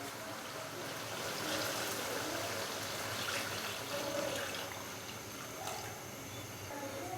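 Two to three glasses of water pour into a pot of browned aloo chicken for shorba, a soft, steady rushing splash that stays fairly faint and even throughout.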